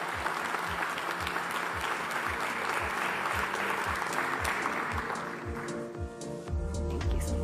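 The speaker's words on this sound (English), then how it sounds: "another round of applause for Minister Rosan Roeslani." Conference audience applauding a government minister at an investment and innovation summit, a dense, sustained wash of many hands clapping that fills the room, thinning toward the end as a low hum takes over.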